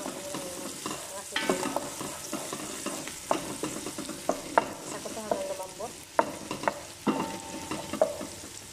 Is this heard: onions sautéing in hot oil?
yes